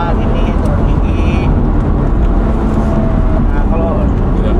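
Subaru BRZ with naturally aspirated engine and manual gearbox dropping a gear at relaxed pace in traffic, a steady loud engine drone from inside the car with a brief rising tone, no voice heard.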